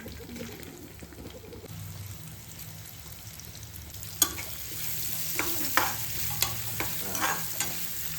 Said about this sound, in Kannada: ಸೊ ಇವಾಗ ಇದೇ ಪ್ಯಾನಿಗೆ ನಾನು ಈರುಳ್ಳಿ, ಬೆಳ್ಳುಳ್ಳಿ ಆ್ಯಂಡ್ ಕರ್ಬೇವಿನ ಸೊಪ್ಪನ್ನ ಹಾಕೊತೀನಿ